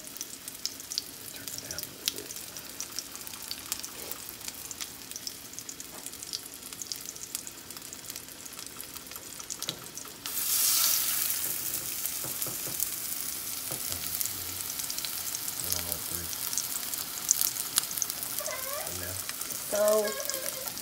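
Venison burger patties hit a preheated frying pan and a loud, steady sizzle takes over, crackling continuously with faint kitchen clatter and a little talk in the background.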